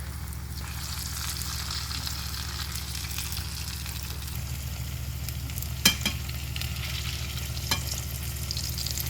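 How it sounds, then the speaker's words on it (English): Smoked red herring fries lightly in a pan with a constant, even sizzle close by. A couple of sharp clinks from turning the fish cut through near the end. "you just want them to fry lightly but not to burn"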